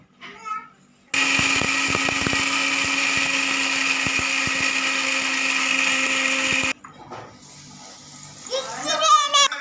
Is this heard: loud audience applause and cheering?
no